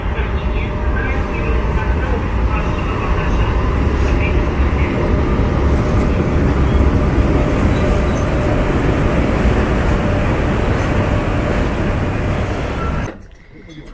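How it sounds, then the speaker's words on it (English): A Trans-Siberian Express train rolls into a platform with a loud, steady rumble and grinding wheels that continue for most of the clip before abruptly cutting off. "I thought it was already here, but it is just coming in."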